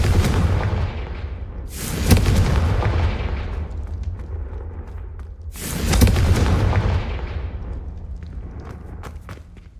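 A Confringo blasting spell explodes in Hogwarts Legacy: two heavy booming blasts a few seconds apart, each with a sharp attack and a long rumbling decay over a low continuous drone, with no talk.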